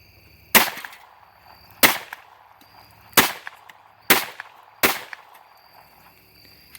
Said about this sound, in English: Ruger Mark 1, the most awesome 22 pistol in the world.